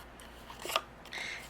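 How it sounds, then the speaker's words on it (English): Scissors trim the bottom off a paper list during holiday card-making, producing a quick crisp snip followed by a short rasping cut through the paper, close and quiet. "I'm going to take my scissors and just trim off the bottom of this list"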